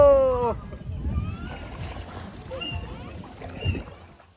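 Water sloshes and splashes around a small rowed boat moving along the Trabana river in Bolinao, with voices talking and calling out over it.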